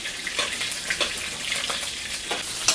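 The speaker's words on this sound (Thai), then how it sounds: "ใส่กระเทียมพริกลงไปแล้ว" Garlic and chili fry in hot oil with a loud, busy crackle and spatter, small pops scattered through a steady hiss, close and without talk.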